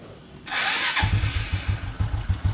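A motorcycle with a sticking throttle cable revs in a loud broadband roar for about half a second, then drops into a rough, uneven idle of regular low thumping pulses, close by with no talking.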